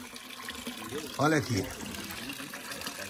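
Water runs steadily on a farm in the countryside of Nova Trento, Santa Catarina, with a continuous broadband rush throughout and someone briefly speaking over it.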